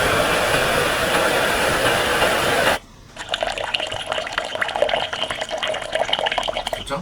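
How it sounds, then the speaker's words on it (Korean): Flowing water from a sound effects library, a dense steady rush that cuts off abruptly and gives way to a lighter, uneven trickle with scattered splashy drips. "자, 플로우 워터 하니까 여기도 이렇게 물소리가 나옵니다."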